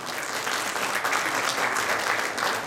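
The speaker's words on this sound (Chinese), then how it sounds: "热情掌声鼓励" An award ceremony audience applauding, a dense, steady burst of many hands clapping at fairly close range for a few seconds with no talk over it.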